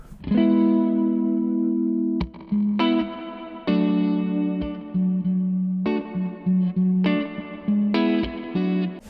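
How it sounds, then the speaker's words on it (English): Zander Circuitry Exosphere reverb pedal with its second reverb set near self-oscillation, sustained guitar notes swelling into a dense, ringing wash that cuts off and restarts several times, loud and alone. "So basically reverb 2, you've got a ton more decay and it pretty much goes to self-oscillating."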